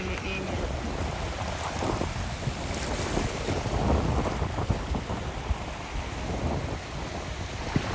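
Strong wind blowing at a seashore where children bathe in the sea, roaring and buffeting the microphone continuously, with surf underneath.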